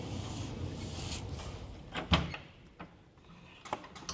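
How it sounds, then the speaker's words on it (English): A hot wood heater door swings shut on its light latch, giving one soft clunk midway with a couple of faint clicks afterward over a low, steady background hiss. "So we're going to close the door."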